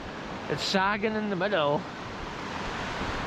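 A river roars under a sagging bridge in wild Scottish landscape, a steady broad rushing wash heard throughout, with a person speaking briefly over it.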